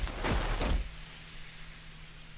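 Snakes in the video game Terra Randoma let out a thin, steady hiss lasting over a second after a brief burst of noise, fairly quiet and without speech.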